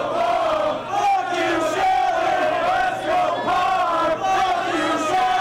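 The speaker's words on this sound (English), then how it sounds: "And the crowd showing the appreciation for this tremendous battle they're seeing." A large wrestling crowd at a 2005 Ring of Honor anniversary show roars and chants loudly and continuously, the cheering swelling in waves with no break.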